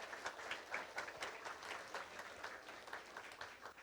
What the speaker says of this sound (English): Audience, give them big round of applause.